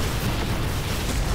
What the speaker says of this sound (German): Der Ogre ist tot und es explodiert noch 10 Mal im Nachhinein.